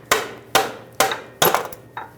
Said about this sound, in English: So I can use it to tap on the starter back and forth from side to side and hopefully break it free.